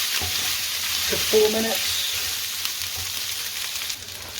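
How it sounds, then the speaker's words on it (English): Boiled lamb and onions sealing in a hot pan, giving a steady sizzle with a few stirring scrapes while someone speaks briefly over it. "So we just want to seal the boiled lamb now with the onions."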